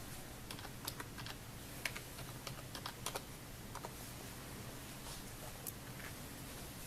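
Faint, sparse keystrokes as a PIN is entered on a computer keyboard, scattered clicks over a steady low hum in a quiet room.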